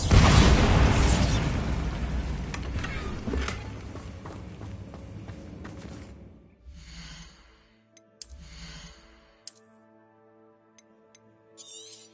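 A Bombarda blasting spell explodes in Hogwarts Legacy: a loud, broad burst at the start that rolls off over several seconds, then a few fainter pops and crackles trailing away.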